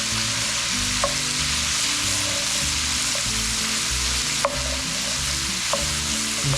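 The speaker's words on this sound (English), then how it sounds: "I'm just gonna cook this until the bacon crisps up a little bit and the onions become translucent." Chopped onion and bacon fry in rendered bacon fat, giving a close, continuous crackling sizzle with a few sharp utensil taps against the pan and a low steady hum underneath, with no one speaking.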